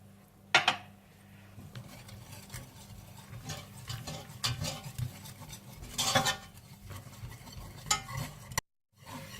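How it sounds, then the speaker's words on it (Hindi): A spoon stirs and scrapes flour roasting in a pot while a beef roast sauce is made, giving steady scraping and clinking over a faint sizzle, with no talking. "इसी बर्तन में आप मैदा डालकर अच्छी तरह से भून लें"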